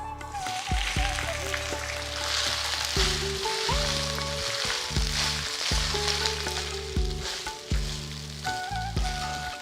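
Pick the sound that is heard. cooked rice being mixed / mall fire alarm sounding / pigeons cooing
cooked rice being mixed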